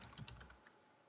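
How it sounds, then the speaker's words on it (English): Rapid clicking of computer keyboard keys, a short burst of typing close by that stops after about half a second, leaving a quiet room. "Please excuse me while I'm typing."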